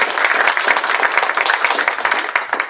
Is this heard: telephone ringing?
no